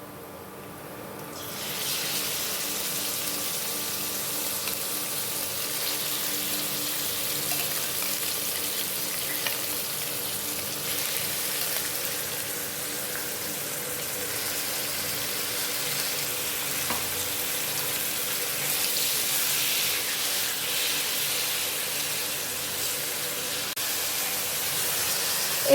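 Marinated chicken hits hot oil with chopped ginger and garlic and fries in a loud, continuous sizzle that holds steady for about twenty-five seconds, close up and without talk.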